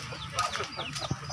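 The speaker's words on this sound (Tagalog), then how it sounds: "Ang daming manok na dito." Chickens clucking on a Filipino farm, several short calls overlapping at close range over steady background noise, with a brief low thump near the end.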